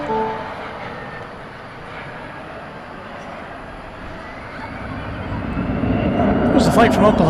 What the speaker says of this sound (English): There's the flight from Oklahoma City.